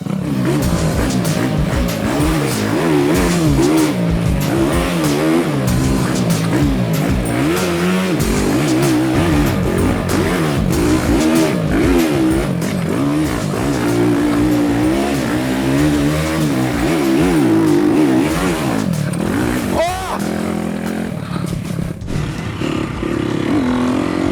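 An off-road motorcycle engine revs and surges continuously, loud and close, with pitch rising and falling as the bike accelerates over rough forest ground.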